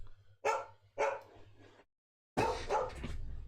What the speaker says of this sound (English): Let me get my dog.